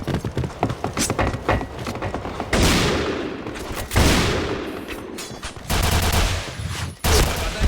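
Rapid gunfire from a video game shooter rattles in repeated loud bursts and fusillades, packed closely together, with a short gap between volleys.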